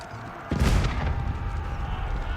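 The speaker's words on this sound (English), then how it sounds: "Cannons will make quick work of the castle." Cannons fire at a castle in a video game, a sudden loud boom followed by a rumbling, crashing decay that lingers under steady battle ambience.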